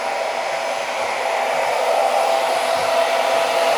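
Handheld hair dryer running at medium speed and high heat, a loud, steady close-up whoosh of blown air with a faint motor whine, continuous and alone with no talking.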